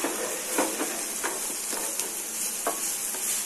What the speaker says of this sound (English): be careful while you fry the veggies